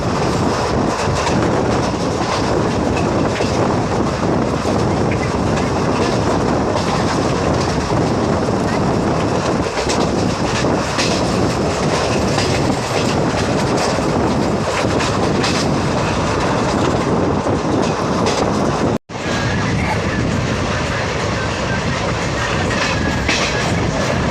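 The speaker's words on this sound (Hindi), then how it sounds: "तो हमारी ट्रेन रंजनी रेलवे स्टेशन को भी स्किप करके निकल गई।" A passenger train runs nonstop through Ranjani railway station on the Parbhani–Jalna line, heard from on board as loud, continuous rumbling and clickety-clack with wind noise, briefly cutting out near the end.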